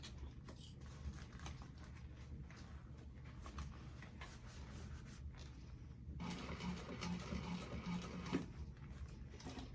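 A sewing machine stitching a Molly bag, its needle running in a steady fast mechanical patter, quiet and close, with a brief pause and then a slightly busier stretch of stitching.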